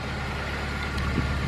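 A Honda Civic Si with a freshly replaced clutch hums along at a steady low engine drone on a short drive, a constant mechanical rumble with no voices.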